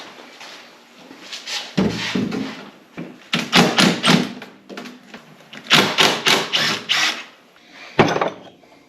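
Car door hinges being removed in a garage: a string of metallic clanks, ratcheting clicks and knocks in irregular bursts, fairly close, with no talking.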